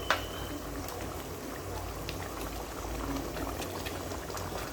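Sauce bubbling at a steady boil in a pan with fried rui fish for a Bangladeshi fish curry, a continuous close bubbling hiss throughout with no speech.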